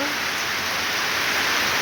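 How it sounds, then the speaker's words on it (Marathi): Sudden heavy rain with big drops pours down outdoors in a garden on a foggy morning, a dense, continuous hiss of rain striking surfaces, steady and close without pauses. "बापरे किती मोठे मोठे पडत आहेत थेंब"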